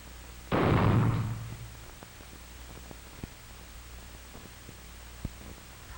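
A single rifle shot cracks out loud and close during a 1946 target-practice session at miniature targets, its boom decaying over about a second, followed by quiet background hiss with only faint scattered ticks.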